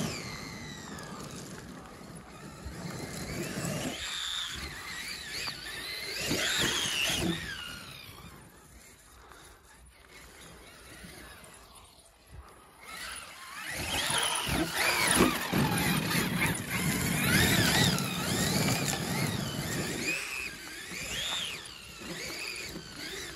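The small electric motor of a Traxxas X-Maxx RC monster truck with a damaged rear differential whines and revs on a forest path, rising and falling in pitch as it speeds up and slows, with tyre and gear noise.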